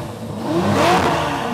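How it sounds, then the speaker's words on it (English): A Ferrari 488 Pista engine with a full IPE exhaust and cat delete revs up, rising to a throaty peak and easing off, close by and loud. "Listen to the exhaust on this thing."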